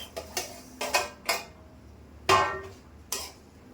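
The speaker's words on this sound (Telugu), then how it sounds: "మనకి తెలిసిపోతుంది అప్పుడే సౌండ్, పప్పులు రోస్ట్ అవుతున్నప్పుడు అలా వచ్చేంత వరకు కలుపుతూనే ఉండాలి." Lentils (dal) roasting as they are stirred in a pan, giving scattered metallic scrapes and clinks of spoon against pan, close and moderate, with a few louder knocks and no talking.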